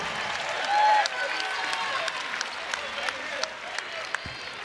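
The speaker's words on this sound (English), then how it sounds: "Nice round of applause for the local kid." Crowd applause in the arena at a Morehead State vs. Louisville women's basketball game, a broad moderate clapping wash with sneaker squeaks and scattered court noise, heard beneath an announcer's commentary.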